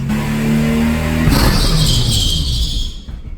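A car engine revs hard and steadily just before a burnout, then its tone shifts as the throttle changes, loud and close with no talking.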